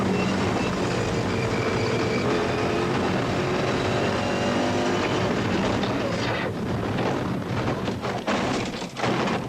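Inside the cab of a Ford Racing Ranger race truck at the Carnival City 400 desert rally, the engine drones loudly and continuously with road rattle and a few knocks near the end.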